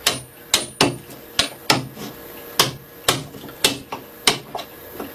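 A hammer strikes a chisel chopping through wood while making a jack plane, with about a dozen sharp, loud, close knocks at an uneven steady rhythm and nothing else heard.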